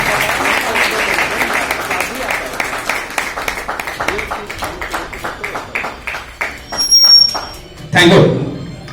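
An audience at a motivational speech claps in a steady rhythmic beat that gradually thins and softens, followed by a few louder thumps and brief voices near the end.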